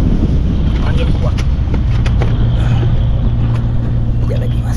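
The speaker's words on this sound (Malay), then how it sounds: "Angin kuat." Strong wind buffets the microphone on a small fishing boat out netting pomfret at sea, a continuous loud roar with low rumble and no pauses.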